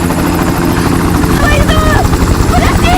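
A loud, continuous helicopter rotor thrum fills the clip, close and steady, with faint voices mixed underneath.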